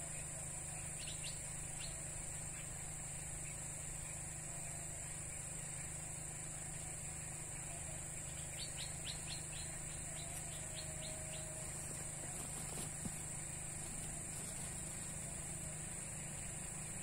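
Crickets kept as fishing bait chirp in short high trills against a steady outdoor hum with a constant whine, faint and intermittent over the whole stretch.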